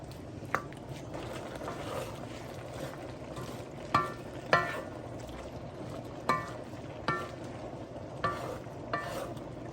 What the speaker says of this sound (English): I'm going to let this veggie break down and cook for about 5 more minutes